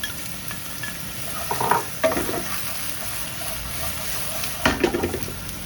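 Onions hitting a pan of cooking garlic and ginger for a chicken jalfrezi, with a steady sizzle and a few louder stirring scrapes and bursts near the start and end.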